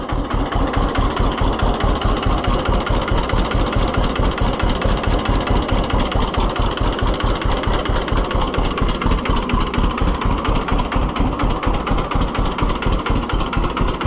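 A vintage tractor engine, a John Deere G or Oliver 1365, idles steadily up close with an even, loud, rapid firing rhythm that holds throughout, with no voices.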